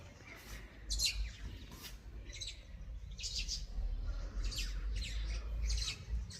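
Birds chirp and squawk repeatedly from a giant tree in a residential neighborhood, their calls coming in short bursts at a moderate distance over a steady low outdoor rumble.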